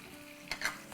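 Garlic and ginger paste frying in oil for egg biryani, with a soft steady sizzle and a couple of brief stirring scrapes near the end.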